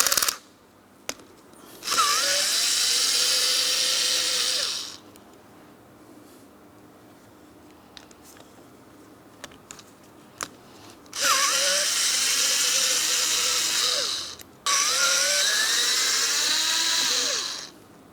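A power driver whines loudly in three separate bursts while backing out T25 Torx screws from a power window motor on a Mitsubishi Outlander, with faint clicks and handling noises in the pauses.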